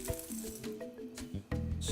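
Chocolate chips are stirred into hot liquid in a pan for warm chocolate sauce, giving wet squishing and scraping with a few sharper knocks. The sound is close and there is no talk.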